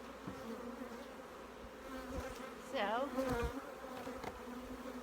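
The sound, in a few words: honey bees buzzing at an apiary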